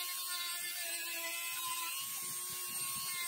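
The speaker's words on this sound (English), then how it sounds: "So I did mention a Dremel tool, and I got a little sanding wheel in here" A Dremel rotary tool with a small sanding wheel works tight spots on the inside of a wooden charcuterie board's heart-shaped handle, giving a steady high whine with rough, uneven grinding underneath, close and continuous throughout.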